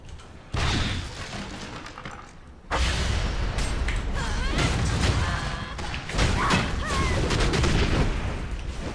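Barrels detonate in the Tera video game after a ranged attack, with loud bursts of explosive booms and crackling impacts arriving in waves over continuous game noise.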